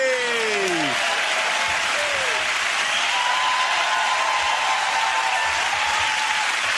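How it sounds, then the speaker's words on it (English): A studio audience at a British comedy panel show applauds James, Sarah and Andy, a steady, loud wash of clapping that holds unbroken throughout, with a voice briefly heard at the start. "give that round of applause to James, Sarah and Andy."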